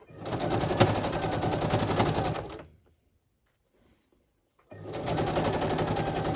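A sewing machine runs a fast straight stitch through layered fabric, a loud close whirring rattle that stops for about two seconds of silence and then starts again.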